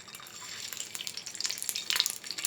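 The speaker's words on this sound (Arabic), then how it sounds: "بعد ما الزيت سخن بقى اهو هنزل بقى بالبيض" Eggs frying in a spoonful of hot oil in a pan, a steady close crackling sizzle with scattered pops that grows slightly busier toward the end, no voices.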